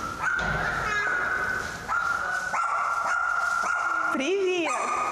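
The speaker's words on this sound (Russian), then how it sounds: "там кто-то лает" Dog barking and yipping indoors, several short sharp barks and whimpers close by, with people talking over and around them.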